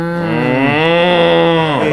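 A person's voice imitates a cow with one long, steady, close moo that holds for about two seconds and then drops off at the end, with no talk.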